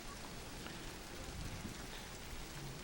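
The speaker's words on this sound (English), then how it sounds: "a few raindrops on the lens" Steady rain falls outdoors, with raindrops landing on a camera lens: a faint, even hiss with soft patters, and no voices.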